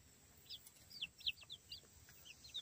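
Barred Rock Easter Egger chickens on a homestead give a run of soft, high clucks and chirps, several in quick succession, heard faintly against a quiet outdoor background.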